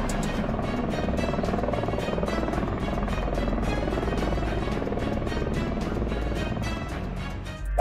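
Steady rotor thumping of a helicopter triggering an avalanche in snowy mountains, with broadband rumble, loud and continuous throughout, rhythmic chop visible as regular pulses.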